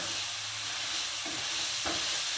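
Sausages sizzling in a frying pan over a steady hiss, with two short scraping stirs of the pan near the end and nobody talking.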